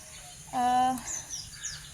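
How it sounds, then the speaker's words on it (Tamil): A single short bird chirp with a clear tonal call in a rooftop flower garden, heard up close against quiet background, followed by a few faint higher twitters. "உங்களுக்கு நான் வீடியோ எடுக்கும்போதே நிறைய பேர்ட்ஸில் சவுண்ட் வந்து கேட்டிருக்கும், பறவைகளில்."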